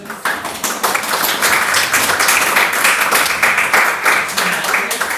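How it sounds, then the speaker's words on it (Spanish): A crowd claps loudly and continuously after a presentation, a dense, steady wash of applause with no pause. "El aplauso."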